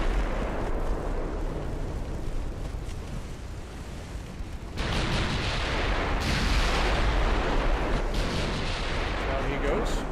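Secondary guns on a warship fire in the naval battle game Ultimate Admiral Dreadnoughts, a dense rumble of booming shots layered over continuous battle noise, with louder bursts partway through.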